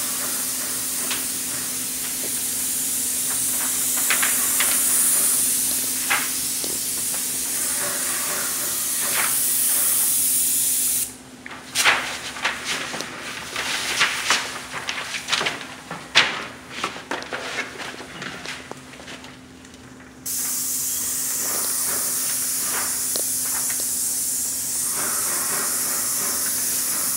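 A Graco commercial airless paint sprayer spraying closet doors, a loud, steady hiss that cuts off for several seconds, leaving faint clicks and handling noises, then resumes at full strength, with a constant low hum underneath.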